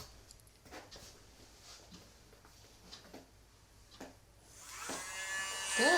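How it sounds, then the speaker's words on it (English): A Dremel nail grinder used on a dog whirs up into a loud, high buzzing whine near the end, after a stretch of quiet with faint ticks and taps. "I'm turning the Dremel on and off"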